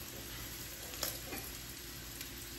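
Chicken sizzles and crackles steadily in a hot pot, with a couple of light clinks near the middle and no talking.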